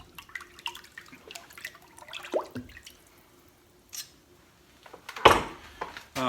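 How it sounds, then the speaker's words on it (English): A still-hot forged steel bottle opener is plunged into water to cool, giving a short hissing splash after a few faint drips and small clinks, then a quieter trailing burble, all close by. "You'll see when I put it in the water to cool it off, still quite hot, and the water will bead off of that."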